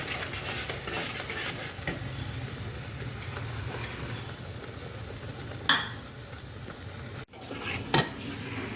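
A paste of ground cashew, poppy seed, melon seed and yogurt is stirred and fried with mixed vegetables in a pan, giving a quiet, steady sizzle with scraping stirs and a couple of sharp utensil clinks near the end.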